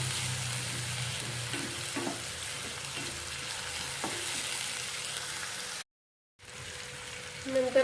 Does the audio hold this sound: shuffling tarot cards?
no